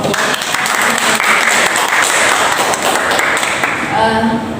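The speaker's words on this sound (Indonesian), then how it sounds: "Beri tepuk tangan dulu dong" Classroom of students clapping for two classmates after their answers in a social conflict lesson, loud and dense, tapering off near the end.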